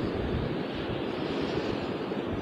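Strong wind buffets the microphone at a beach in Holland, a steady, dense roar of gusts and rumble with possible surf underneath, continuous and close throughout.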